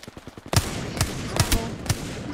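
Gunfire in the Apex Legends video game: a close burst of sharp, loud shots with a few separate bangs following at uneven intervals over a dense, noisy battle backdrop.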